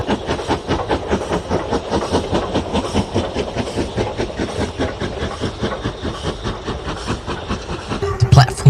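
A Black Five steam locomotive, 45375 from a Liverpool shed, hauls an express freight out of Preston in December 1967, with a rapid rhythmic chuffing exhaust beat and rolling clatter, close and loud, and a narrator speaking over it.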